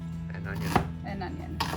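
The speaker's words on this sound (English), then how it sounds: "I'm just roughly chopping this because it's going to go into my food processor" A knife roughly chopping an onion on a cutting board for falafel: one sharp chop near the middle and a lighter one near the end, over a low steady kitchen hum.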